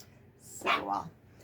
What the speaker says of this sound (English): Hear him bark?